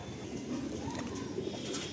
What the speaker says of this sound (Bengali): আপনারা দেখুন ভালো করে পায়রাটা